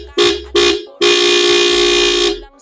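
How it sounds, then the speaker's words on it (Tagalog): A loud aftermarket Antarctica Loudhorn car horn blares two short honks followed by one long sustained blast, harsh and close. "narinig nyo, yun yung ating Antarctica Loudhorn"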